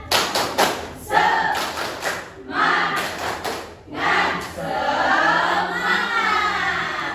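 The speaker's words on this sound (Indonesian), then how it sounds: "Tepuk semangatnya. Tepuk semangat." Students in a primary school classroom perform a rhythmic spirit clap together, bursts of group clapping and thumps in short patterned runs with a few voices chanting between them.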